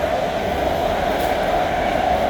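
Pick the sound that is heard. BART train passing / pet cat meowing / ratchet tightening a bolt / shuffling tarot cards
BART train passing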